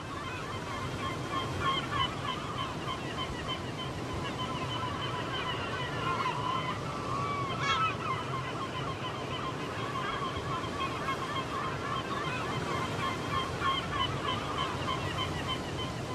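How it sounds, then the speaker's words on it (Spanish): Seabirds calling over the sea at the Atlantic Islands of Galicia, honking and squawking cries scattered above a constant wash of wind and surf, fairly faint and distant. "son las aves marinas, como no podría ser de otra manera, las protagonistas casi absolutas en los horizontes del parque"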